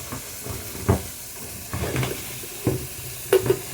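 Mung beans are sautéed in a pan: a faint sizzle with a few separate knocks and scrapes of stirring, fairly quiet and close.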